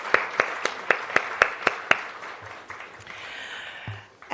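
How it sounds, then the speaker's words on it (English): A string of sharp, evenly spaced claps at a diplomatic diaspora conference launch, about eight crisp hits in steady rhythm before trailing off into quiet room noise. "A round of applause for them, please."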